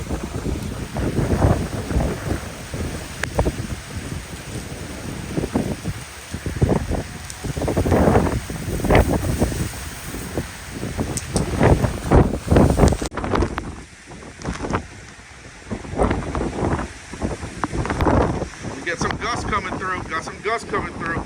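Hurricane Francine's strong wind gusts buffet the microphone in loud, roaring surges that rise and fall repeatedly, with rustling and occasional voices underneath.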